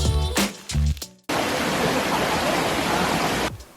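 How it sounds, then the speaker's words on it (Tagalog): A small waterfall flows below a hiking trail as a steady, loud broadband rush that fills most of the clip, preceded by brief voices and handling noise. "May gamay pagid nga busay sa idalom."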